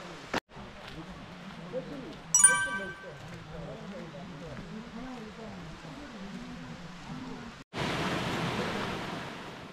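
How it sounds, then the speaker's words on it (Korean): A clear valley stream at Mungyeong Saejae in late autumn flows with a steady, full rushing hiss that comes in strongly near the end, after a stretch of calm spoken narration. "이따금 만나는 청정 계곡물과 맑은 물소리는 자연으로부터 맑은 에너지를 전달받는 느낌이 들어 기분이 좋아진다."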